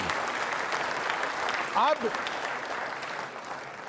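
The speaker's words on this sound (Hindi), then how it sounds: "इस जानकारी के लिए बजा सकते हैं तालियां आप।" An audience at a quiz show for state civil service trainees breaks into applause, a sustained wash of clapping with a short spoken word cutting through midway.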